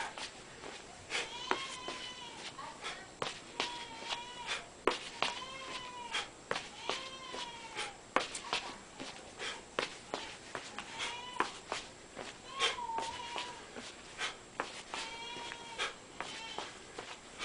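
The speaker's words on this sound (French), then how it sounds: "Vous avez la visite du soir de ma petit chat." A cat meows repeatedly, a string of drawn-out calls rising and falling, mixed with sharp clicks and a voice talking in the background.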